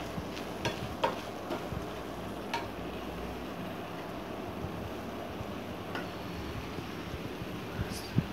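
Low, steady sizzling and crackling from a pan of green peas masala with garam masala being sautéed, with occasional faint clinks and scrapes of a utensil, fairly quiet throughout.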